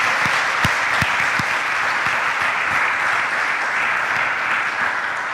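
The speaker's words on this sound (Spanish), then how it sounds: "Dios merece un aplauso" Congregation applause during a Spanish-language church sermon, loud sustained clapping from a crowd with a few distinct sharp claps standing out near the start.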